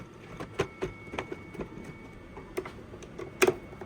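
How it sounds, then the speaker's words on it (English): Back cover of a Pioneer DJ controller, under repair for a charging fault, being fitted back into place: a sparse run of sharp plastic clicks and taps, close by and fairly quiet, with no talking. "putting the back cover back on"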